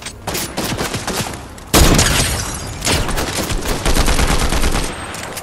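Rapid gunfire in a Fortnite match crackles in dense bursts, with a louder, closer volley partway through and shots continuing steadily to the end.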